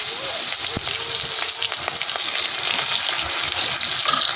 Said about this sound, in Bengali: জিরে আর তেজপাতাটা ফোড়নে দেবো